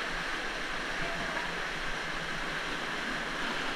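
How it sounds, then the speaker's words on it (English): Waterfall along a hiking trail at the Kudu Kaya pools in Baviaanskloof, a loud, steady broadband rush of falling water filling the scene without pause. "Sari also finding her way up the waterfall, with Kazi on standby."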